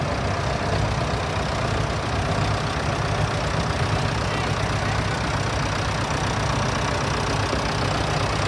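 An old International 1466 tractor's 436 diesel engine idles and chugs continuously at close range at a steam and gas show, a steady rough rumble with no voices.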